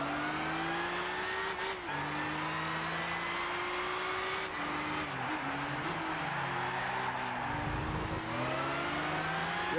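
Race cars tear around Silverstone in Gran Turismo 6, engines screaming steadily with rising and falling pitch as gears shift, a loud continuous roar with brief tire squeals and no talk.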